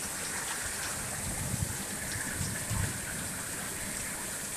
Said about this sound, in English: Oh, look at that rain.